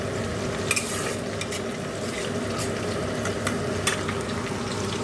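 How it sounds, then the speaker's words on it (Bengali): Onion and whole garam masala fry in oil in a wok, giving a steady close sizzle broken by a few sharp scraping stirs, with no talking. "এদিকে দেখো কড়াইতে তেল দিয়ে গোটা গরম মশলা ফোড়ন দিয়ে পেঁয়াজ দিয়ে দিয়েছি"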